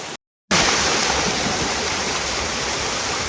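A waterfall at a bathing spot roars as a steady, loud, continuous rush of water after a brief moment of silence at the start.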